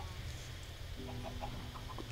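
A blocky chicken from the video game Minecraft gives a few short, faint clucks in quick succession over a low steady background hum.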